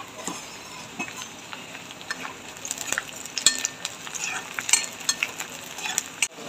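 Chopped onion and four dried red chillies fry in a pan over cumin seeds, a soft continuous sizzle broken by frequent clinks and scrapes of a spoon stirring against the metal.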